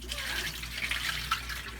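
Rice is rinsed and polished by hand in water inside a rice cooker pot, giving soft, close sloshing and swishing with small splashes and no voices.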